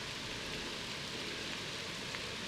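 Steady rain falls during a stormy golf round, a dense even hiss of drops on surfaces running throughout the clip with no talk.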